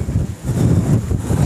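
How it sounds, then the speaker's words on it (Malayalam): Loud gusting wind roars and buffets steadily across a high hilltop tea estate in Munnar, close and continuous, with a brief dip early on and no speech. "ഞാൻ തന്നെ പാറിപ്പോകുന്ന പേടിയുണ്ട് എനിക്ക് അത്ര കാറ്റുണ്ട് ഇവിടെ"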